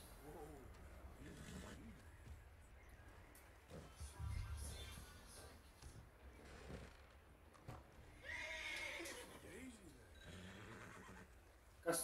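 A horse in the Red Dead Redemption western game neighs and whinnies loudly, with hoof clip-clops and shuffling around it while someone talks over the game sounds.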